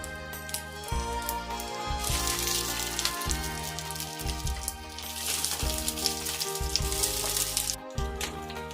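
Hilsa fish paturi parcels fry in a mustard-oiled wok, producing a crackling sizzle that strengthens after the first couple of seconds, under steady background music.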